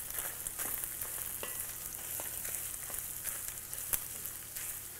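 Beef and fresh rosemary fry in a pan for cottage pie, a steady close sizzle broken by scattered scrapes and taps as they're stirred, with no voices.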